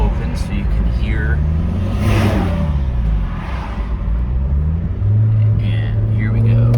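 A 2005 Toyota Corolla XRS fitted with an Injen cold air intake revs with the window open, the engine note climbing and falling in a couple of sweeps before settling into a steady drone, fairly loud from inside the car.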